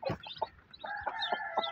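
A mother hen with newly hatched chicks, clucking in short close calls, with a run of high, steady chick peeps layered over and between them.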